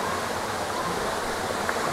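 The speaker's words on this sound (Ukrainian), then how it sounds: "Підходимо до краю водопаду" Steady close rushing of water at the edge of Manyava waterfall in the Carpathians, a busy tourist spot. It is a continuous even roar with faint voices in the background.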